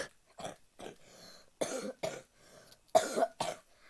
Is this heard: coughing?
yes